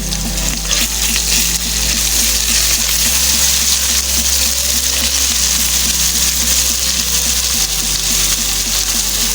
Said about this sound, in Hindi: इसे भी अच्छी तरह फ्राई कर लेंगे ऑयल में।